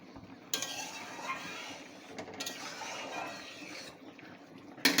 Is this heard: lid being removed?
yes